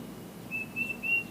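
Thin, high bird calls sound faintly outdoors during a 1st-generation Toyota Tacoma oil change, a few short whistled notes over low background noise.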